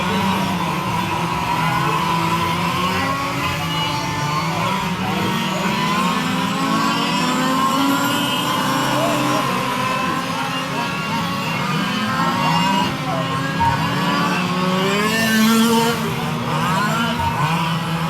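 Race car engines rev and drone at the start of a 12-hour endurance race, a dense continuous roar of many cars with rising and falling pitch, while a voice speaks over it.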